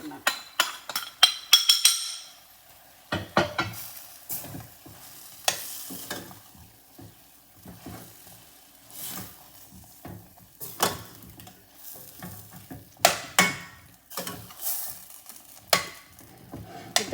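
A stuffed brinjal curry (Nellore nune vankaya) is stirred in a pan, with repeated scraping and clinking of a spoon against metal over a soft sizzle, close and uneven, with no talk.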